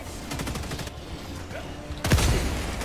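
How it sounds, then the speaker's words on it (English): Incendiary shotgun blasts in Helldivers 2, a burst of rapid shots followed by a brief lull, then a heavier, louder boom-like volley near at hand. "incendiary shotgun is fire. It blows up the Rocket Devastator's rockets."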